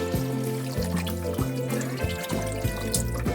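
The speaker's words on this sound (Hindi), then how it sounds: "अब हम इसमें पानी डाल देते हैं।" Water poured into a pot of vegetables while cooking sambar, a steady liquid splash and trickle heard close up and fairly soft, with no talking.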